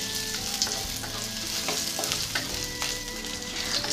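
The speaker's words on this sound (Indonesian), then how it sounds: "Panaskan sedikit minyak lagi, tumis bawang putih dan jahe." Garlic and ginger sauté in hot oil in a steady, dense sizzle that holds for the whole stretch, with a few brighter spatters and scrapes of stirring rising above it.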